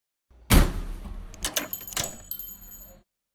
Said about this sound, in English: Hitting a random metal thing. Tossing a coin. Opening and closing the door lock.